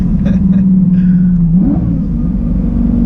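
A 2008 Lamborghini Gallardo engine warming up gives a loud, steady low rumble close by, its pitch rising briefly in a small rev before settling back to a smooth idle.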